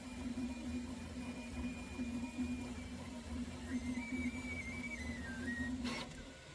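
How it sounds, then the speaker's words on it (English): A Prusa 3D printer running steadily with a constant mechanical hum, while a thin whistle from air moving through gyroid infill rises and shifts in pitch over it, ending with a brief sharp burst. "Your printer's literally whistling because of the air running through the gyroid infill."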